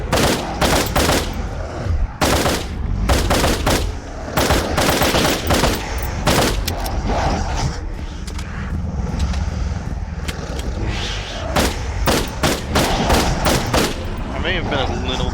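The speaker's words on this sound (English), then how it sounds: "I may have been a little bit overzealous with my shooting" Rapid bursts of gunfire from a shooter game where waves of Beholder-like enemies attack, loud and close, firing in quick volleys with short pauses over a steady background din.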